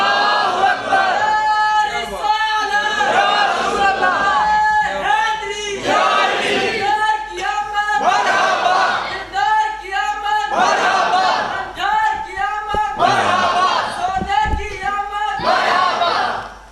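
Children chant slogans in repeated rhythmic bursts, with a crowd of voices rising and falling in a steady call-and-response pattern, broken by short pauses, and some chatter and laughter in between.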